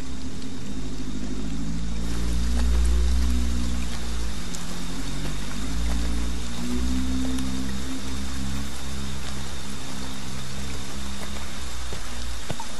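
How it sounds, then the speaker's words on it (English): Steady rain falls outdoors at night as a continuous broadband hiss with a low rumble underneath, constant from start to finish with no voices. "You know it's raining."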